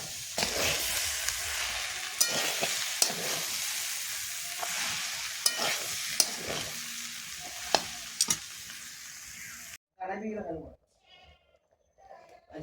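Ghugni pea curry frying on a clay stove while being stirred, a close steady sizzle broken by repeated metallic scrapes and clinks of the ladle, then a sudden cut to quiet with a brief animal bleat.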